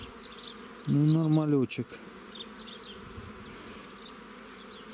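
Buckfast honeybees buzzing around an open beehive at an apiary, a loud close buzz as one bee passes near for about a second, then a faint hum of more bees, with a brief spoken remark.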